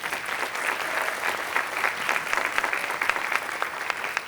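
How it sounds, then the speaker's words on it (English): Audience at a talk on immigration rights applauds an immigration attorney with sustained, dense clapping that holds steady for several seconds, and no talk is heard over it. "Definitely deserves applause."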